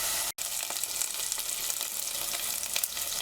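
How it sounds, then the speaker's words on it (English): Chicken chunks frying in oil in a pan on a stove at medium-low heat, a loud continuous sizzle with crackling pops, briefly cut by a short gap near the start. "Allow chicken chunks to fry on the other side properly."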